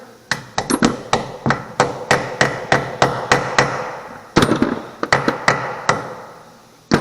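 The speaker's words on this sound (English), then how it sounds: "I'm going to put my knee against the tire to hold it, and then I'm going to hammer it on here." Sharp metallic hammer blows ring out as a wheel weight is hammered onto a tire rim on a Coats 1400 series balancer, about two per second, close and loud, with a brief pause before the strikes resume.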